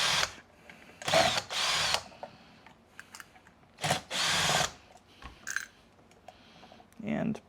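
A power driver whirs in several short bursts while backing Torx screws out of a Miele Vortex vacuum motor, with brief pauses and small clicks between runs, close and clear.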